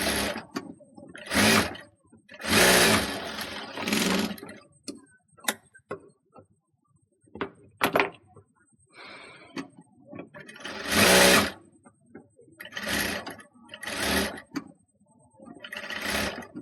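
Sewing machine stitching the neckline of a kameez in short bursts of rapid whirring with pauses between runs, close and moderately loud, with a little quiet talk in the gaps.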